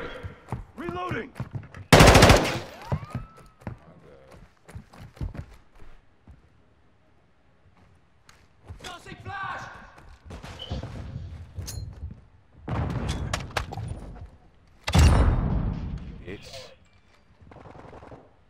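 Video game gunfire crackles in bursts, with a loud rapid burst early on and further volleys later, separated by quieter stretches where a voice talks.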